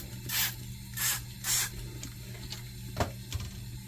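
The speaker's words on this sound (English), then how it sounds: "I can just spray it" Three quick hissing pumps of a spray bottle misting bag fabric, close and crisp, followed by soft rubbing and a light tap on fabric.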